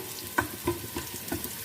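Onions fry in a pan over normal heat for a rice tempering, a soft continuous sizzle broken by a few light stirring clicks, close and without talk.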